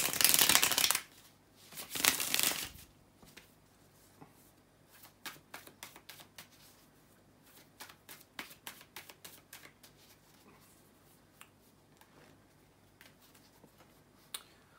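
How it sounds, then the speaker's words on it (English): Tarot cards are shuffled by hand, with two loud riffling bursts at the start followed by a long series of soft, irregular taps and flicks of cards against each other, fairly close and quiet. "So let me just shuffle the cards and see what you guys got."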